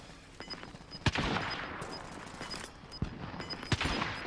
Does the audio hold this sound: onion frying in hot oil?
no